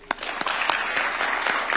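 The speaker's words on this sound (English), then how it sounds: "And a clap would be good." A crowd applauds at a diplomatic signing of a letter of intent between Nairobi City County and Kuala Lumpur City Hall, with scattered claps building into steady, moderately close clapping throughout.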